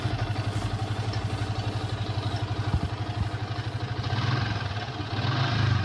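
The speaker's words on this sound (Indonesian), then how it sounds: "motornya sudah menyala" A motorcycle engine fires up on its starter and settles into a steady, rhythmic idle, close by, with a slight swell in level toward the end.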